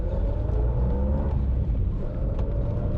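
A 1986 VW Parati with an air-cooled engine drones steadily while driving, a constant low rumble filling the cabin with no voices.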